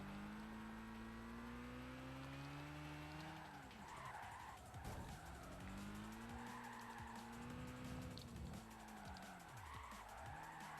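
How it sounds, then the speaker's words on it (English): Tires squeal continuously as a car drifts in the racing video game Gran Turismo 5, the engine droning underneath with slides rising and falling in pitch and a couple of sharp transitions, loud and alone without talk. "It can drift, but you got to build the speed up."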